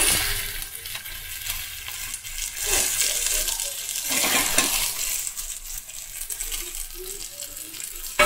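Neem leaves frying in a pan, with a steady close sizzle and crackle plus occasional stirring scrapes and clatters, fairly loud throughout.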